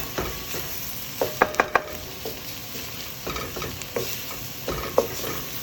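Vegan pumpkin chili in a pot gets stirred with a spoon, giving soft repeated scrapes and knocks against the pot over a steady low sizzle, close and clear with no talking.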